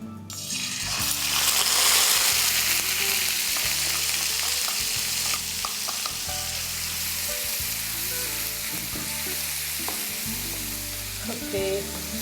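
Spice paste for a gravy frying in hot oil, a loud continuous sizzle with clinks of a stirring spoon against the pan, close up and with no talking.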